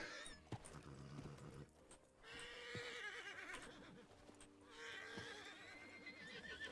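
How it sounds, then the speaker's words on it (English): A buckskin Mustang in the RedM western roleplay game whinnies several times, with snorts and hoof clops heard between calls against a quiet outdoor background. "That's a buckskin Mustang."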